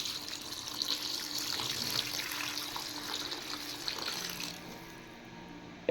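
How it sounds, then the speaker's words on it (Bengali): Water pours steadily into a pot of simmering chicken curry with melted tomato, a continuous close splashing rush that runs alone for several seconds before easing near the end. "এবার আমি দিয়ে দেব জল"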